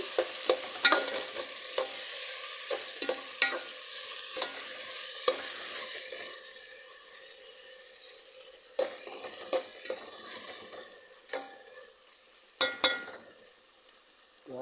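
Mint leaves sautéing in a pan for chicken liver curry, a soft hiss with frequent sharp scrapes and taps of a spoon against the pan, close and without speech.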